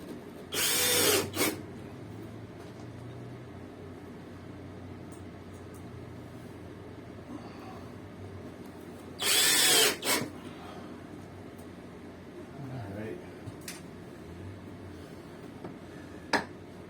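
A power drill drives screws into drywall along the bottom of a guest bedroom closet wall, sounding in two short, loud whirring bursts several seconds apart, with quiet room noise and faint clicks between them.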